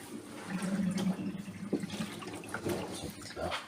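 Water is poured off a batch of olives being prepared, a steady splashing and trickling flow that runs continuously at close range with small surges and gurgles.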